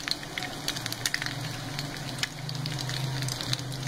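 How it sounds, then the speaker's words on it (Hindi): Chinese-style chicken shami kebabs shallow frying lightly in a pan, a steady soft sizzle with faint scattered crackles and pops throughout, close and fairly quiet, no talking. "बस लाइट सा शैलो फ्राई करें"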